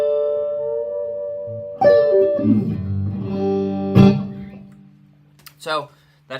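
Electric guitar notes and chords ring out through an amp with reverb and compression, each strum sustaining and fading, ending with a few short picked notes.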